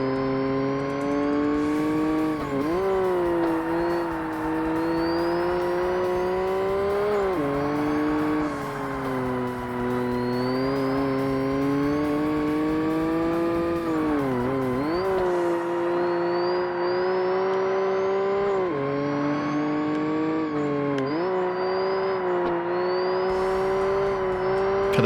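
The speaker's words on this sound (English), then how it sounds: "The turbo is so loud in this car." A turbocharged car in the 2005 Xbox racing game Forza Motorsport on a point-to-point track, its engine droning loud and steady, pitch climbing through each gear then dropping at the shifts, with turbo whistles rising above it.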